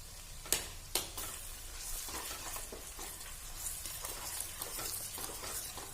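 Whole spices for a carrot-and-cauliflower sweet-sour pickle roasting in a pan, with a steady dry sizzle and scraping stir strokes. Two sharper clacks of the spoon stand out early, then the stirring and sizzling continue softly throughout.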